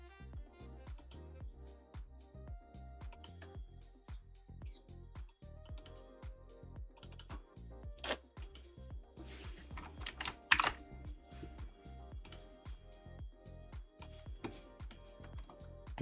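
Rapid typing on a computer keyboard, a dense run of close, crisp key clicks with a few louder, heavier strikes, no voice over it.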